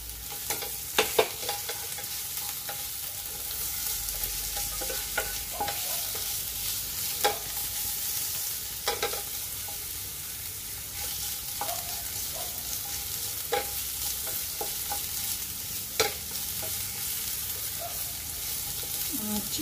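Garlic and onion stir-fry in a pan with a constant close sizzle, broken by frequent scraping knocks of a utensil tossing them around.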